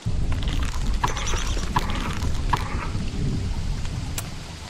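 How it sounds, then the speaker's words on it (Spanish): Rain pours steadily in the video game Don't Starve: Reign of Giants while thunder rumbles and booms at intervals. The downpour is loud and continuous, and the thunder claps stand out above it. "Que se me ponga a llover, chaval"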